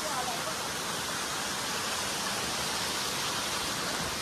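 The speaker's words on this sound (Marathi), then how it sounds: "हे बघा फुल पाणी आहे, फुल पाऊस." Heavy monsoon rain pours on a mountain trekking trail near Bhimashankar, with rushing water blending into a dense, steady hiss that stays loud and unbroken throughout.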